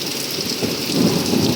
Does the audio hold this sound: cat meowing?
no